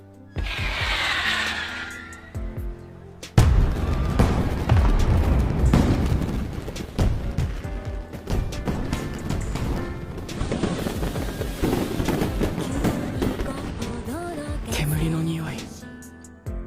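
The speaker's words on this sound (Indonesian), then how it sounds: "Di tengah kemeriahan pesta kembang api" Booms and crackling bursts of fireworks at a summer festival in an anime go off repeatedly over a dense, noisy background of music and crowd sound, loud and continuous.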